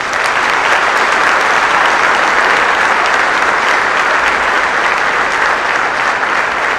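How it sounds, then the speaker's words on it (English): A large crowd at a fire academy graduation claps in steady, dense applause that holds at an even, loud level from start to finish. "We could have a round of applause for all of our instructors."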